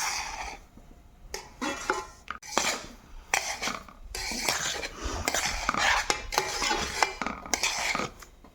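Semolina roasting in ghee for suji laddu is stirred in a metal pan, giving repeated scraping and clinking strokes of the spoon in an irregular rhythm, with no talk.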